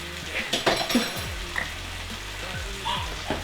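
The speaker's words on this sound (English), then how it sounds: "Add in my garlic, stir it in." Garlic stirred into jalapenos and capsicum frying in a pan, giving a steady close sizzle with a few scraping utensil strokes and light clinks over about three seconds, with no voices.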